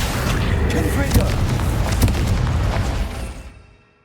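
Confringo blasting spell explosions in Hogwarts Legacy, a dense rumbling burst of booms lasting a few seconds before fading out to silence.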